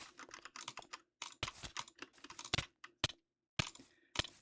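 Mouse clicks in a video game come in rapid irregular bursts of sharp, close clicks separated by short pauses, loud and alone.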